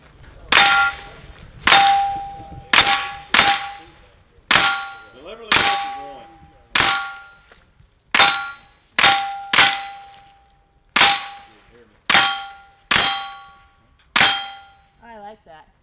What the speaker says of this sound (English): SBR wearing David's brand new Kodiak Ultra. It's like not even a BB gun.